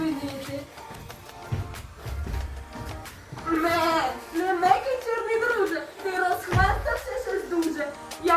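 A goat bleats in wavering, drawn-out cries, close and fairly loud, with a voice talking alongside at times.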